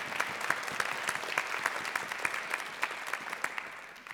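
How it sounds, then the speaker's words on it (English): A conference audience gives a round of applause, a steady wash of clapping hands that holds at even strength throughout without voices over it. "let's take a minute to give them a round of applause."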